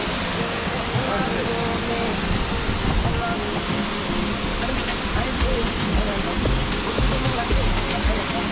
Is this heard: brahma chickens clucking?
no